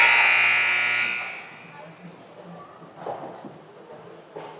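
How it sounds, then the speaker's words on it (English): A loud, harsh electronic buzzer at an ice hockey game blares for about a second and then fades, followed by people talking in a noisy rink. "and there's the buzzer"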